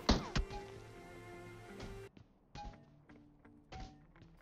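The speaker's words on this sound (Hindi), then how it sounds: "अब जहां पर मेरे पास 7 की कम एमो थी तो मैं इसको पेन से मारता हूं" A player in PUBG Mobile strikes an enemy with a frying pan: a hard metallic thunk, then several lighter clangs and thuds in an irregular rhythm, up close.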